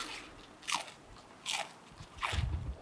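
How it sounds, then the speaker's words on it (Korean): Three crisp, close bites into fresh green lettuce from a farm field, each a sharp crunch spaced about a second apart, with soft chewing after the last one and no voices. "진짜 아삭아삭 소리가 난다 나."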